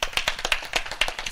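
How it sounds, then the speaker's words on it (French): An audience claps steadily, with a run of crisp, evenly spaced handclaps at moderate volume and no talk over them. "Vous pouvez l'applaudir, comme ça on se chauffe aussi."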